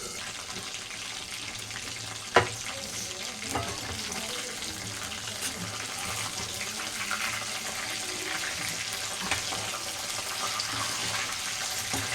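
Chicken 65 fries in a pan with a steady, dense sizzle throughout, close and moderately loud, with an occasional faint clink of a utensil.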